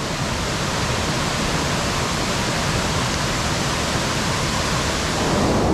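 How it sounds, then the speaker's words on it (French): The Saint-Thomas waterfall roars as a loud, close, unbroken wash of rushing water, steady from start to finish with no other sounds above it. "la cascade de Saint-Thomas"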